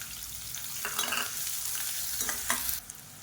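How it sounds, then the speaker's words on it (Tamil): Chopped onions going into hot oil with mustard seeds and curry leaves for a Tamil kuzhambu, giving a steady close sizzle with a few stirring scrapes and no talk. "இப்போ இதில் பொடியாக நறுக்கின வெங்காயம் சேர்த்துக்கலாம்"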